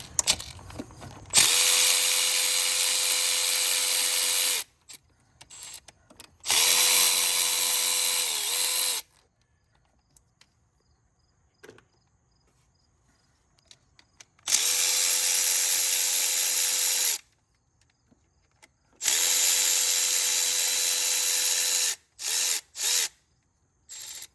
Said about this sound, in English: We're going to get all these T30 bolts out.